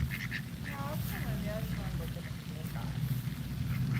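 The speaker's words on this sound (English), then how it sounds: "Now they're ducks." Ducks quack near a pond, several short nasal calls scattered over steady outdoor rumble, with people talking over them.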